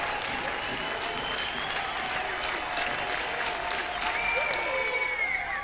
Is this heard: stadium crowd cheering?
yes